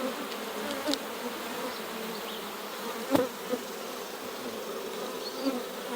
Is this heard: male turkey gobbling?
no